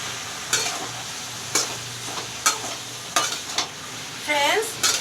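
Parwal bhujiya (pointed gourd) frying in a pan with turmeric, stirred with repeated sharp spoon scrapes against the pan over a low, steady sizzle, close up and with no talking.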